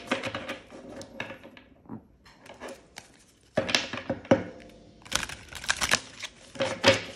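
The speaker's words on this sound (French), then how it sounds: "on va juste tirer une carte, voir ce qu'il met dans son livre" Oracle cards drawn from a deck: quick crisp taps, flicks and shuffling clicks in irregular bursts, close and fairly loud, with short pauses between and no talk.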